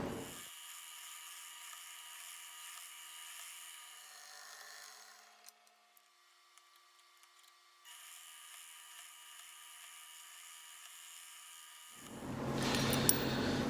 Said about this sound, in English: So, over to the drill press.